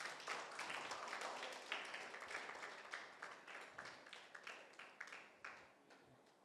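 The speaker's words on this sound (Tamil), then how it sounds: "எல்லாம் கைத்தட்டலாமா?" An audience at a children's book review event claps, starting as a dense burst of applause and then thinning to a slower, fading run of separate claps, faint and somewhat distant.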